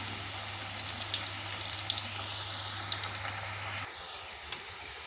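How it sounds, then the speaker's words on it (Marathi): Elephant foot yam chips deep-frying in hot oil over high heat make a steady, dense hissing sizzle that continues without a break, close and fairly loud, with no talking. "हाय स्पीडवरच आपल्याला हे चिप्स तळून घ्यायचे आहे"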